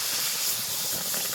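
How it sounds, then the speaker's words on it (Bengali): Water poured into a hot pan of vetki fish head curry sets off a loud, continuous sizzling hiss that fills the whole brief moment. "2 মিনিট হয়ে গেছে, এবার জল দিয়ে দেবো।"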